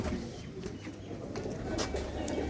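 Pigeons cooing at a Punjabi pigeon-keeping gathering, soft repeated coos over a steady outdoor background hum with faint chirps.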